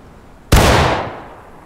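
A single loud gunshot during shooting practice in the video game War of Rights, a sharp blast followed by a decaying rumble of about half a second, then quiet.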